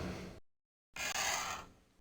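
Desk drawer creaking in the Tex Murphy: Under a Killing Moon game: a short scraping creak, a brief silence, then a longer, brighter grinding creak of the drawer sliding open, close and clear.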